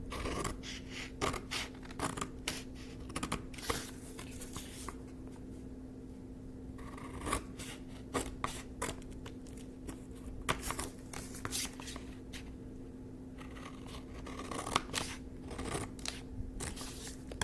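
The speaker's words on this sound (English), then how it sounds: "cut along the cross, but don't cut all the way to the middle" Scissors snip paper along cross-shaped cuts, with repeated crisp close cutting strokes in bursts separated by short pauses over a low steady hum.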